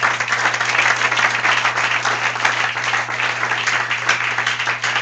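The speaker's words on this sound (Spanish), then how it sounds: "Dele aplauso al Rey." Steady applause from a church congregation honoring God during a sermon, dense and continuous clapping throughout with a low electrical hum underneath.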